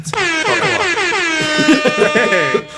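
A loud, blaring air horn sound effect from a soundboard sounds continuously for nearly three seconds, harsh and buzzy, right up close.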